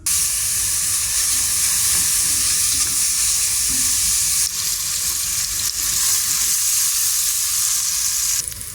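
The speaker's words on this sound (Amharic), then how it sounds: "ሽንኩርቴን አሁን ዘይቴን ጨምሬ አበስላለሁኝ።" Chopped onions fry in hot oil for a chicken dish, giving a loud, steady sizzle with crackling hiss and occasional stirring, close up and without talk.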